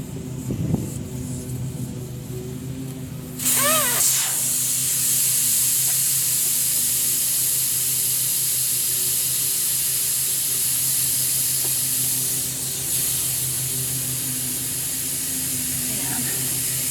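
Air blasts out of a tire after its valve core is pulled, a loud continuous hiss starting suddenly and holding steady for many seconds, with someone talking briefly before it begins.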